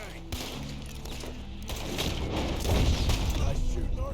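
Gunfire in the video game Red Dead Redemption 2 comes as scattered shots and booming reports that build into a denser volley. Voices speak among the shots.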